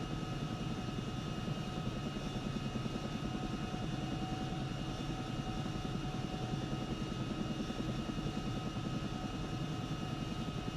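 In ArmA 3, a helicopter engine drones steadily and loudly with a constant rotor thrum and high turbine whine, holding an unchanging pitch throughout.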